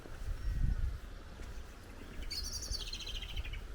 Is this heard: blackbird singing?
yes